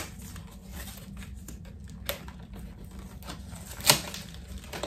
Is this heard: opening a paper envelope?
yes